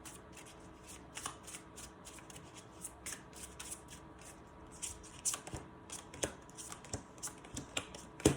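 Tarot cards are riffled and shuffled close by in a quiet room, giving a run of soft papery flicks and snaps that grow busier and sharper toward the end.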